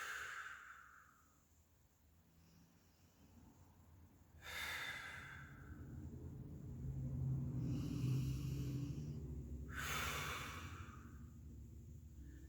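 Slow, deep breathing during a grounding meditation, with soft airy inhales and exhales, a couple of sharper nasal breaths and a long sigh-like exhale, close and quiet with no talk.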